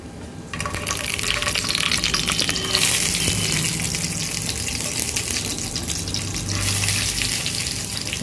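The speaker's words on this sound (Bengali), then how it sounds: "তেল গরম হয়ে গেছে এবারে আমি টমেটোগুলো কড়ার মধ্যে সাজিয়ে দেবো" Stuffed tomatoes laid into hot oil in a kadai sizzle and crackle steadily, a loud continuous frying hiss with a brief clatter as they go in, close up and with no talking.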